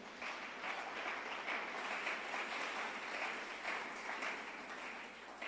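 A church congregation claps together during a Sunday worship service, a steady even applause that stays at one level for several seconds, heard from a little distance with no voices on top.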